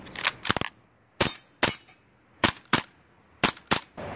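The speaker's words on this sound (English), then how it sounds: "Next up, Kriss Vector and Semi." An airsoft Kriss Vector firing on semi-automatic, with about eight sharp, snappy single shots in loose pairs and spaced bursts, fairly close and clear against quiet.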